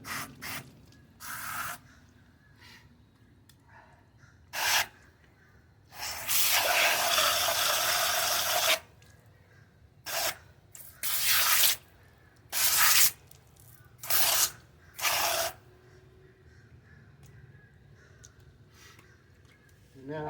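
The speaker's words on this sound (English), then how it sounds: "and I'll spray in here." A spray bottle hisses into a dirty Bissell floor cleaner in a series of short bursts, with one long continuous spray partway through, close by and fairly loud amid quiet pauses.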